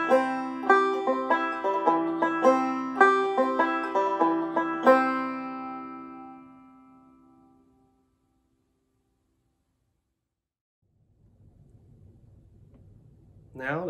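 Bluegrass banjo filler roll backup picking for I'll Fly Away, a steady rapid run of plucked notes for about five seconds that rings out and fades, followed by near silence and a faint voice starting at the end.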